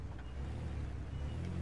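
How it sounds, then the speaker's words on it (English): A car engine rumbling in the video game H1Z1, a low steady drone that dips briefly as if faltering, heard alone without talk. "The car is stalling, my dude."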